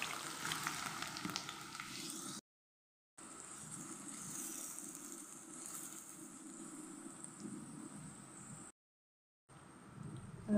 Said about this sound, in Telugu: ఆయిల్ వేడైంది. ఇప్పుడు ఆనియన్ పచ్చిమిర్చి వేస్తున్నాను.